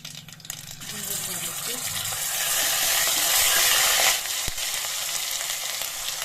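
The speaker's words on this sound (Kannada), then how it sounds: "ಎಣ್ಣೆ ಕಾದಿದೆ. ಸಾಸಿವೆ, ಜೀರಿಗೆ, ಪಲಾವ್ ಎಲೆ, ಕಪ್ಪು ಏಲಕ್ಕಿ, ಕರಿಬೇವಿನ ಸೊಪ್ಪು ಹಾಕೋತಾ ಇದ್ದೀನಿ." Mustard seeds, cumin, bay leaf, black cardamom and curry leaves drop into hot oil for a dal tadka, a close sizzle that swells into a loud crackling hiss, then eases, with a sharp clack and faint talk at the start.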